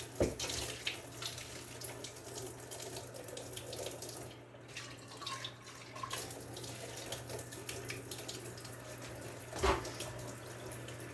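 Tap water running steadily into a kitchen sink as drained goulash meat is rinsed, a continuous splashing hiss with small shifts and a brief louder splash near the end, fairly quiet and without talk.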